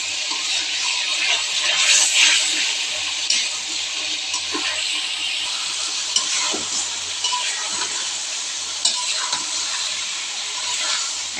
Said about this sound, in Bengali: এখন আমি এটার মধ্যেই তার পটল আলুগুলো দিয়ে দেবো।